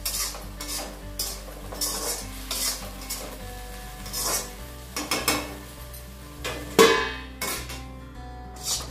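Cucumber curry with fresh coriander being stirred in a pan, giving repeated scraping strokes in a steady rhythm against a low hum, close and moderately loud with no talking.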